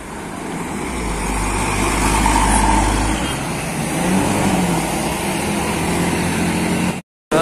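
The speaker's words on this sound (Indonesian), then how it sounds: "Melintas ini unit bus Kramat Jati." A tour bus rumbles past on a town road in Ciamis, its engine noise building to a loud, close peak and then trailing off beneath steady traffic noise.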